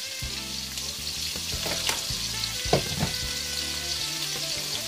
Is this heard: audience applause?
no